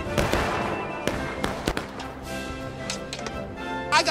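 Artillery cannons fire in the Civil War game War of Rights: a few sharp, loud booms land irregularly over a dense battlefield din, with a final burst near the end.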